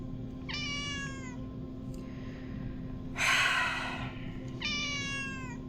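Cat meowing for food indoors, two clear drawn-out meows with a breathy huff between them, close by over a steady electrical hum.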